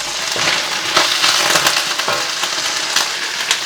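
Dried red chilies and garlic frying in a pan for chicken curry, a loud, steady close-up sizzle with crackling pops and occasional stirring clatter, without any talking.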